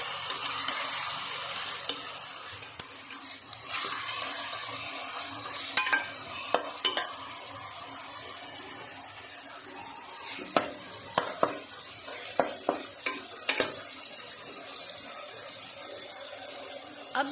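Minced meat fried with onions in a pan gives a quiet, continuous sizzle while being stirred. Repeated scraping clicks and taps of a spoon against the pan grow busier toward the end, close by and without talk.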